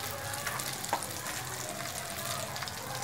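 Asafoetida sizzles in hot oil for amla pickle, a continuous even frying hiss with a faint stirring tick, close up and without speech.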